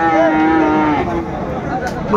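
Cattle lowing at a busy traditional weekly livestock market in Dinajpur, Bangladesh, with calves and cows for sale; several overlapping moos carry loudly through a steady crowd din.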